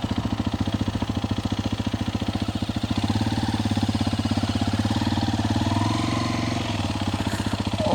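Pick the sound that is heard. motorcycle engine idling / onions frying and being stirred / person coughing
motorcycle engine idling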